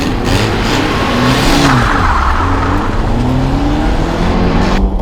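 BMW E30 Touring car accelerating hard with a loud, close engine roar, the pitch climbing steadily through a gear before a shift and further rise.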